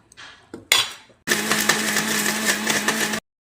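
A mixer grinder jar holding ragi, cardamom, jaggery and milk gives a few short clatters, then runs with a loud, steady whirring grind for about two seconds before cutting off abruptly.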